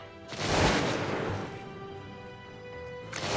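Gunfire in the Cossacks 2 strategy game: one loud burst of a volley or cannon shot with a rumbling tail that slowly fades, and a second blast starting just at the end.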